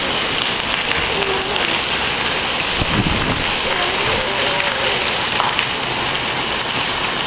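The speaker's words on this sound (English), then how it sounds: "the hail, and now the rain's coming down good." Heavy rain with hail pours down in a loud, constant roar during a strong storm in Campo Grande, Brazil, with a brief voice partway through.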